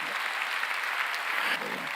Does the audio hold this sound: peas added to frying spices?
no